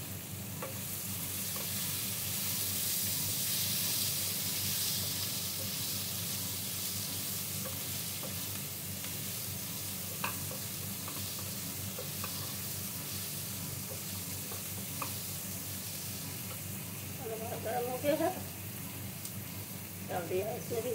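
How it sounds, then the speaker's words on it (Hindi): Garlic frying in hot oil while pasta is made, a steady soft sizzle throughout with occasional stirring scrapes and light clinks near the end, and a voice talking over it. "डाल दिया इसमें भी गार्लिक, गार्लिक को भी ऐसे रोस्ट कर लेंगे"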